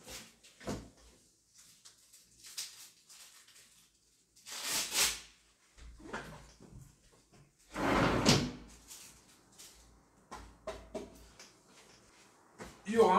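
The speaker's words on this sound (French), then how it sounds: "Je vais ouvrir une fenêtre." A window opened in a steamy room, with a few clunks and a longer swishing slide heard nearby, separated by quiet gaps.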